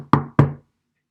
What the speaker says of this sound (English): But the big bad wrecking ball knocked on the door